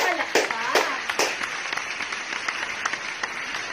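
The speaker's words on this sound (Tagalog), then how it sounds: "bibigyan ko kayo ng palakpak." Young children clap together as applause for being obedient, a scattered burst of hand claps that thins into sparse, uneven claps, with a voice faintly present.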